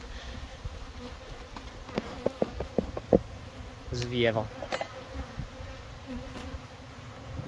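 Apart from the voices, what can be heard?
many bees buzzing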